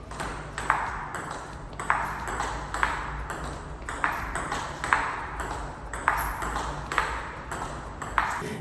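A steady back-and-forth of sharp table tennis ball clicks off a paddle, roughly one hit per second, close and crisp with no voices.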